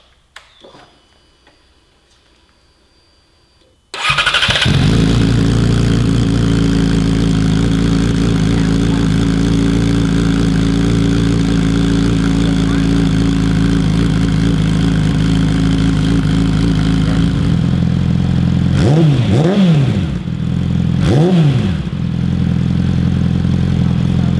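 A Yamaha YZF-R6 sport bike fitted with an M4 Street Slayer slip-on exhaust starts after a quiet moment and settles into a loud, steady idle, with a couple of sharp throttle blips near the end.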